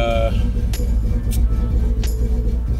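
Idling engine of a 1984 Chevy C10 truck with single exhaust, a steady low rumble running throughout, with a couple of brief high clinks and a voice talking over it.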